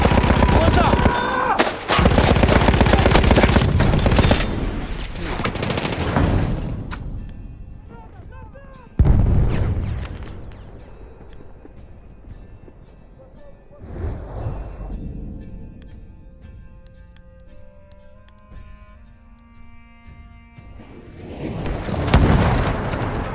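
Machine gun and artillery fire in a war video game set on the Volga river, including a Lewis gun: loud, dense bursts of gunfire and booming blasts, some near and some distant, with shouted voices in between.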